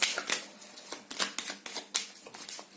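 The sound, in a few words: tarot cards being drawn and handled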